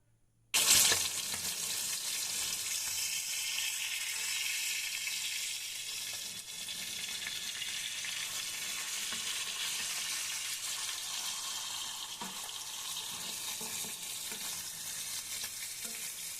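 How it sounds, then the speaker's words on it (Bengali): Tilapia coated in chilli powder, turmeric and salt drops into hot oil with a sudden sharp crackle, then fries in a continuous loud sizzle that holds steady at close range. "এখানে আজকে তেলাপিয়া মাছটা আমি একটু এপিট ওপিট ভেজে নেব।"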